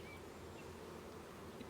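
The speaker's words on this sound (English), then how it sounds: "you got a pretty good slug of bees on the see here" Honey bees buzz steadily during a hive inspection, a faint, continuous close drone with no voices.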